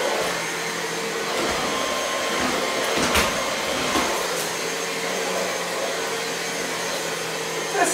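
A 2-in-1 cordless stick vacuum cleaner with HEPA filter runs on its high setting, a steady loud whirring motor roar with airy hiss that holds constant throughout, with no talking.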